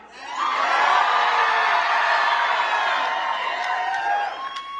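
A crowd at Democratic incumbent Mark Kelly's election night event cheers and whoops loudly, a sustained roar of voices that swells early and holds for several seconds.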